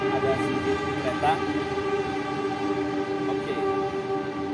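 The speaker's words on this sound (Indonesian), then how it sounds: "Maaf, ada sedikit kereta" A train passes close by, its loud steady rumble mixed with sustained horn-like tones that swell and fade across the whole stretch, with no talking over it.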